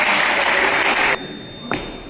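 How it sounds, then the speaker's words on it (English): A round of applause for fencers after a duel: dense clapping that cuts off abruptly after about a second, followed by a single faint thud. "Round of applause for ladies and"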